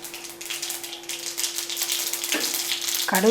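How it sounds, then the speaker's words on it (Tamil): Mustard seeds dropped into hot oil with a little ghee for lemon gojju: a crackling sizzle that swells and grows louder, with a steady low hum underneath and a sharp burst at the end. "இப்போ எண்ணெய் நல்லா காஞ்சோன்னே தேவையான அளவு கடுகு"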